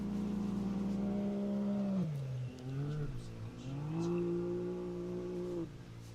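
An Ultra4 off-road race car engine drones and rises in pitch, shifting through gears with a steady roar from a moderate distance, during stock-class qualifying at Lake Havasu.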